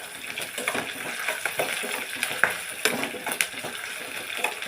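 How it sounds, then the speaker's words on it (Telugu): Onions frying with ginger-garlic paste in a pan for a ridge gourd and chana dal curry, with soft sizzling and repeated scrapes and clinks of a spoon stirring against the pan. "ఉల్లిగడ్డలు ఫ్రై అవుతున్న టైంలో కొంచెమంతా అల్లం వెల్లుల్లి పేస్ట్ వేసుకొని"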